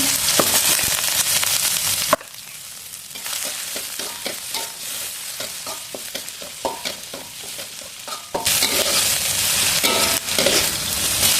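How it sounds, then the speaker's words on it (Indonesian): Onion sautéing in a little oil sizzles loudly and steadily, dropping to a softer crackle with stirring scrapes in the middle before the full sizzle returns. "Saya tumis pakai sedikit minyak aja, nggak usah banyak-banyak tumis. Untuk numisnya masukin bawang bombay."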